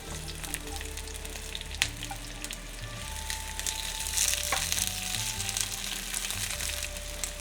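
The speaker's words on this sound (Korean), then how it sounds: "팬에 기름을 3스푼 둘러주고 파를 볶아서 파기름을 만듭니다." Green onions frying in three spoons of oil in a pan to make scallion oil for a tomato and egg stir-fry, a constant soft sizzle with occasional light clinks and no voices.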